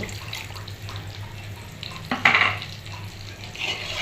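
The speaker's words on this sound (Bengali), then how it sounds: "ঝোল দিয়ে দিয়েছি, আর একটু ঝোল দেব।" A fish curry with tomato simmers while its gravy is stirred, producing a low sizzle with scraping spoon strokes and a brief louder clatter partway through; no talking.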